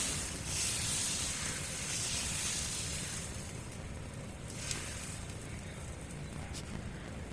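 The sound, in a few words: dosa cooking on a hot griddle over medium flame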